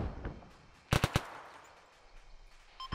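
A burst of rapid gunfire cracks out in the ArmA 3 game, three loud close shots in quick succession over a low rumbling battlefield backdrop, with a faint distant pop near the end.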